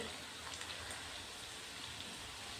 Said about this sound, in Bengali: এখন আস্তে আস্তে একটা একটা করে আমি এপিট উপিট করে ভেজে নেব